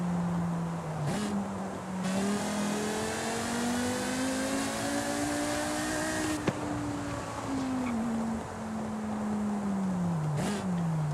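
A high-revving V10 car engine in the video game Forza Horizon 5 holds a loud sustained drone, its pitch climbing and falling smoothly through the gears with brief shift dips, and no talk.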